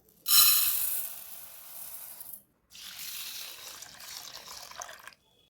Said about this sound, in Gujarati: સૌથી પહેલા આપણે અડદની દાળને 2 થી 3 પાણીએ ધોઈ